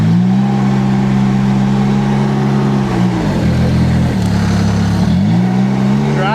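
A compact loader drives along with its engine droning steadily, then dipping and revving up again twice in quick swells, loud and close with no talking.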